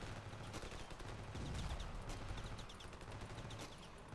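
Rapid bursts of gunfire in the RavenField shooter game, aimed at an enemy tank, crackle steadily and fairly loud throughout with a low engine rumble underneath and no voices.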